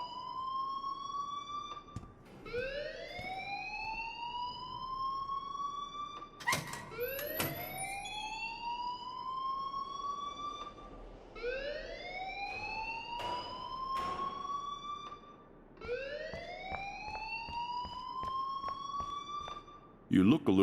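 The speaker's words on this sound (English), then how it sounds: "please turn off that alarm since that's your job" A rising-and-falling alarm wails repeatedly in the Life is Strange video game, sweeping upward in a loud cycle about every four seconds and running continuously throughout.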